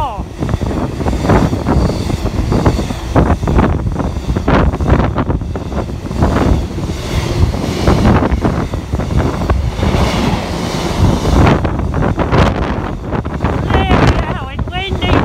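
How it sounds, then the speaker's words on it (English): Strong wind buffeting the microphone beside the railway line at Whittlesea, a steady roaring gusty rush with a low rumble underneath that lasts throughout. "Bloody hell, it's windy today!"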